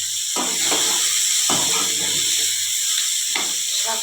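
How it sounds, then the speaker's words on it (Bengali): Bitter gourd and amaranth stems frying in a pan give off a steady sizzling hiss throughout, with a few soft stirring clatters of a utensil against the pan. "সবজিটা ভাজা ভাজা হয়ে এসছে আমাদের অনেকটাই"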